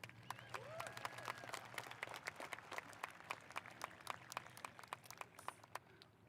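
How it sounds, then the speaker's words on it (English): Faint applause from a graduation ceremony audience in a large hall after a varsity choir performance, scattered distinct claps with a brief tonal sound early on, quiet and distant. "one more round of applause for the varsity choir."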